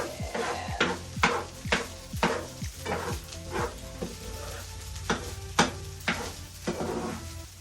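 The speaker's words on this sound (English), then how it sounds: "Now we'll let this finish cooking up. You can see it's finally starting to get that fried rice color" Fried rice is stirred and tossed in a hot pan, with rhythmic, repeated scraping strokes and clinks over a continuous sizzle, up close and with no talking.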